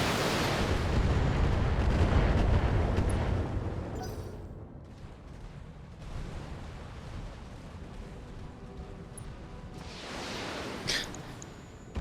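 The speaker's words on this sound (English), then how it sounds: "unload all of your missiles into it" Missiles unloaded from a mech onto an enemy Kintaro in BATTLETECH, a dense rumbling barrage of booms and blasts loudest in the first four seconds, then a lower continuing rumble with a few later impacts.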